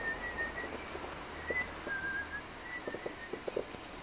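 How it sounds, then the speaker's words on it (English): A person whistles a short melodic tune resembling the Steamboat Willie theme, a few brief clear notes separated by pauses over steady outdoor background noise on Bonfire Night, with faint clicks and knocks nearby. "What song are you whistling?"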